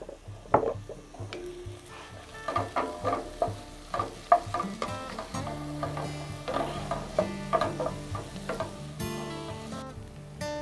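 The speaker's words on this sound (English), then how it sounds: "And then we're going to add those onions and let those saute." Onions sautéing in a pan for Southern-style black-eyed peas: a soft, steady sizzle with repeated scraping and clinking as they are stirred, close and fairly quiet, with no talking.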